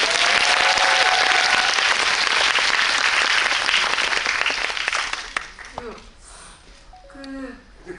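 An audience at a film talk in a cinema bursts into dense, loud applause that holds for about five seconds before fading out into scattered claps and murmuring voices.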